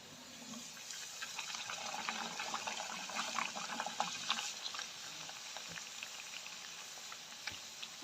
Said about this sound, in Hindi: ऑयल गरम किया, इसमें एक एक डालते जाएंगे।